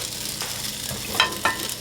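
Pot stickers sizzle and fry in a frying pan with a steady close crackle, while a couple of sharper clicks and scrapes of a utensil or lid stand out near the end.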